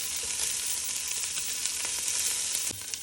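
Meatballs for albondigas soup brown in a hot pan with a loud, continuous close-up sizzle and crackle, briefly disturbed near the end as they are moved, with no talking.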